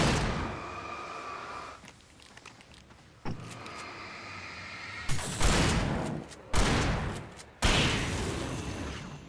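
Gunfire in Alan Wake Remastered: a few sharp, loud shots spaced a second or two apart, each ringing out with a short tail, over quieter ambient game sound.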